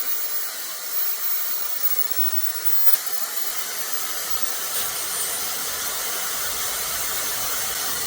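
Handheld 180,000 RPM electric air duster blowing, a loud, steady, close rushing hiss that rises in intensity over the first few seconds and then holds constant.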